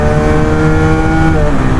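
Two motorcycles, a Bajaj Pulsar 220F BS6 and a Husqvarna Vitpilen 250 BS6, launch in a drag race, their engines roaring loud and close with a steady, dense revving tone throughout and no talk.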